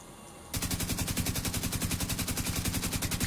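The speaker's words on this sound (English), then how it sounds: "I appear to be getting shot." Rapid automatic gunfire in a video game erupts abruptly and continues as a loud, steady stream of shots hitting the player, with no speech over it.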